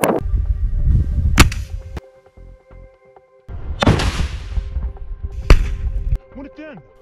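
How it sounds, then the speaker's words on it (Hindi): A rocket launcher fired at an IDF tank, heard as two or three loud sharp blasts with crackling, rumbling decay between quieter lulls, close and forceful, with a hiss at the end. "आईडीएफ के एक टैंक पर रॉकेट लॉन्चर से गोला फायर करता है, जिसमें जोरदार ब्लास्ट होता है"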